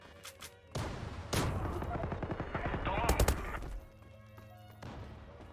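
Gunfire in the online shooter Zula: sharp close shots and rapid automatic bursts, loud cracks clustered in the middle, with a voice talking among them.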